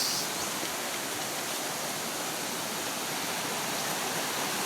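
Clear river water flowing downstream, a continuous broadband rush like a small stream or cascade, steady and moderately distant with no voices.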